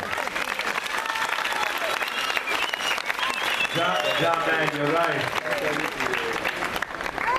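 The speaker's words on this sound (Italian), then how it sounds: "Io pensavo che l'applauso fosse più forte però" Applause from an audience at a dance exhibition in Lignano, steady and dense across the whole stretch, with a voice speaking briefly over it and music starting partway through.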